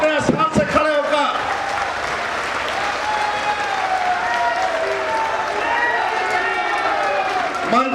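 An audience at a public event in Sambhal rises to its feet and gives a long, sustained round of applause welcoming Yogi ji, dense crowd clapping that stays loud and steady throughout after a few sharp thumps at the start.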